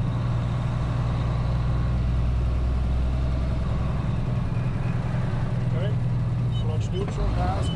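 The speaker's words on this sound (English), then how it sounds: "I'm gonna go ahead and downshift." Truck cab during a CDL road test with a 10-speed manual transmission: a steady, loud low diesel engine drone fills the cab as the driver downshifts, with faint mechanical clunks near the end.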